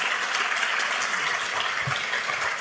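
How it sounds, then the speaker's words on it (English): Steady applause from an audience at a live Declaration of Independence reading in Washington, a continuous dense patter of clapping that holds at an even level throughout, with no voices. "Give them a round of applause"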